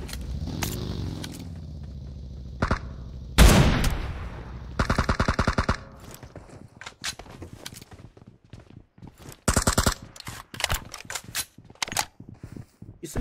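Gunfire in a battle royale video game: sharp, close single shots and quick bursts crack at irregular intervals, some loud and clustered, others fainter and farther off, with softer clicks and movement sounds in between.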